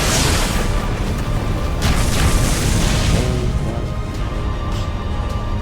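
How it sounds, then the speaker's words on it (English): Ground exploding in the video game Tsukihime as a massive swath of terrain is torn up, a loud sustained rumbling roar of crumbling soil and debris that holds for several seconds and eases off slightly near the end. "It's an explosion of soil, a veritable upheaval of the ground."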